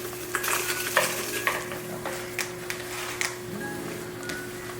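Seasoned ground turkey is mixed by hand in a bowl, soft squelching and scattered clinks of a utensil or bowl over a steady low background hum, with a few sharper taps spaced irregularly.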